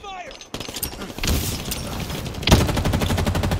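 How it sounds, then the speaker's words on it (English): Rapid automatic gunfire and bursts of shots from a Halo Infinite match crackle loudly and almost continuously, intensifying near the end, with game voice callouts mixed in. "Taking fire."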